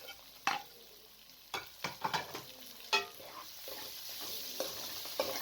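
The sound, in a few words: frying keema with spices, capsicum and potatoes in a pot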